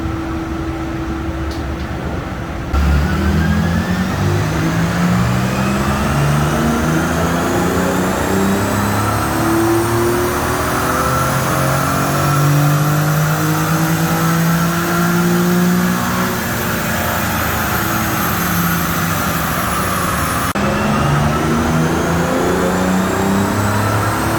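A Nissan 350Z engine running on a dyno, held loud and close at high revs and climbing steadily in pitch through a long pull with whining harmonics, then dropping back briefly near the end.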